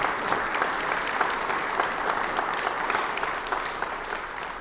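Applause from an audience at a press event, a dense, steady wash of many hands clapping close by that fades slightly toward the end.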